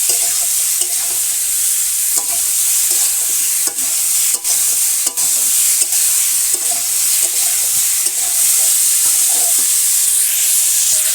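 Tilapia pieces frying in oil with salt and turmeric in a village kitchen, a loud continuous sizzle broken by sharp spatula scrapes and clicks against the pan, no talking.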